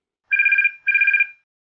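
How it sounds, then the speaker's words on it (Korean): A telephone rings for an incoming call with two evenly spaced electronic ring bursts, each about half a second long, clear and close with no talk around them. "전화가 왔습니다"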